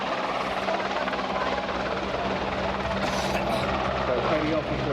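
A Royal Navy Leonardo Merlin helicopter hovers low at an air show, its rotor pushing a heavy downdraft; the loud, steady roar of rotor and engines fills the whole clip without a break.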